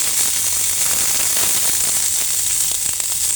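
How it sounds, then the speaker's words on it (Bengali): Steady, loud sizzling hiss of mashed cauliflower frying in a pan for fulkopi bharta, an unbroken close crackle lasting throughout with no talk. "তো আমি একটু ভেজে নিচ্ছি, ভেজে নিলে একদম ভর্তাটা খেতে দারুণ লাগবে"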